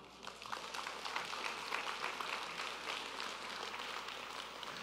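A church congregation at a midweek prayer gathering applauds with a steady wash of many hands clapping at moderate distance, even and unbroken for several seconds.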